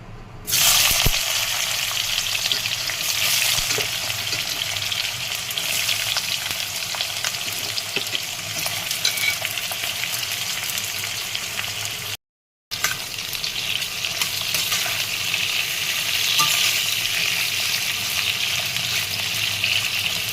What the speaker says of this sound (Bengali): এবার আমি এতে কাঁকরোলগুলো আগে ভেজে নেব।